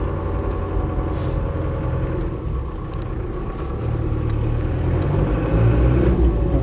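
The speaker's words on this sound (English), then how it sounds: "Engine starts on the button, whether hot or cold, very, very nicely." Land Rover Defender 90 with a 300TDi diesel engine runs close by with a steady, gruff rumble, swelling louder toward the end as if revving or pulling away.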